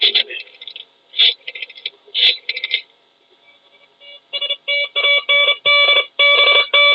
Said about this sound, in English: I, too, will transmit a radio alarm.